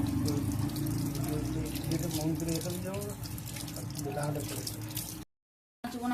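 Tap water runs into a kitchen sink as raw meat is washed, a steady splashing stream with a brief cut near the end while a voice talks over it.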